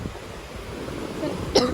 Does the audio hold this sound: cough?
yes